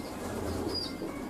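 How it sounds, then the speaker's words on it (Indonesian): A pigeon flaps its wings in a soft, steady flutter close by, a low rustling whir that runs through the whole short moment without any voice. "ini merpati yang biasa saya gunakan dengan babu loloh."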